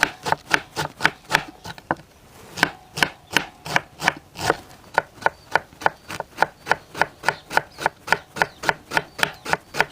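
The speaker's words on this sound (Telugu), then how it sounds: "క్యాబేజీ ఈ విధంగా వీలైనంత చిన్నగా కోసుకోవాలన్నమాట" A knife chops cabbage thinly on a board for homemade fast food: rapid, regular crisp strokes, close and loud, with one brief pause near the start and no talk.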